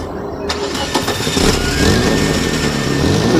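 A car engine cranks and catches with a sharp start, then revs and settles into a loud, steady drone as the car pulls away close by.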